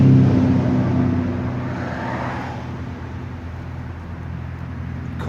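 A BMW R1200RT motorcycle fitted with a GPR exhaust and replacement header, catalytic converter removed, idles steadily with a deep, even engine rumble, loud and close throughout, no talking.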